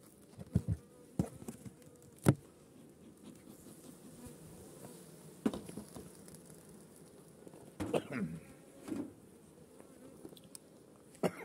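Honey bees buzz faintly at an open hive being checked for varroa mites, a low steady hum broken by a few sharp clicks and knocks from handling the frames.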